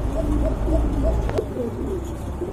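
A pair of black lace pigeons coos in repeated throaty, rolling calls, close and fairly loud, with a brief click partway through.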